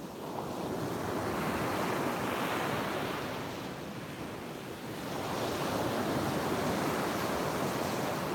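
Ocean waves roll and break on a beach at sunrise, a steady broadband wash of surf with gentle swells in loudness and some wind rumble on the microphone, no voices.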